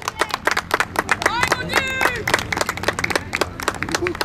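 Fans of a youth football team of under-age boys clap in quick, uneven bursts from the sidelines, mixed with shouting voices and a brief whistle-like tone partway through.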